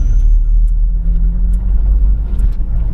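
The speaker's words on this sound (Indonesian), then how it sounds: "mobil ini habis nyalip malah belok kanan" A car passes close and loud on the road with a deep, steady engine rumble and road noise, overtaking and then turning right.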